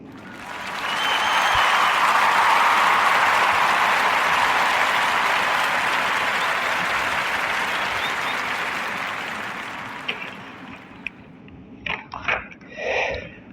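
A studio audience breaks into sustained applause and cheering that swells quickly, holds strong for several seconds, then fades away as a few scattered claps trail off.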